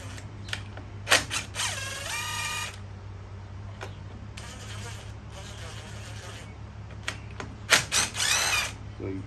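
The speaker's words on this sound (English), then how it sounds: "Got a T27 on my DeWalt." A DeWalt power driver fitted with a T27 bit whirs in three short bursts with ratcheting changes in pitch while working on a Stihl string trimmer, with close clicks and handling noise between runs.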